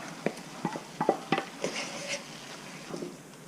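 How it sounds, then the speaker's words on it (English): Onions tipped into a hot pan of garlic and ginger and stirred with a utensil, giving a few close clinks and scrapes against the pan over a low background with no talking. "Now we're going to add the onions to the garlic."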